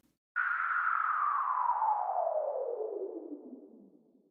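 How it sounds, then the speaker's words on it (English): Synthesized white noise passed through a bandpass filter, a single long downward sweep that starts abruptly at full loudness and slowly falls in pitch and fades over about four seconds, alone without talk. "I'm gonna go to my settings, effects, bandpass, white noise."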